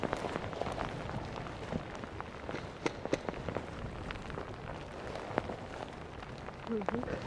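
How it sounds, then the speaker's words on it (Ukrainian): Rain pours onto a rapeseed field as a dense, steady hiss with scattered sharper drop impacts and a few louder knocks, close and continuous throughout. "Бачите, який дощ прийшов."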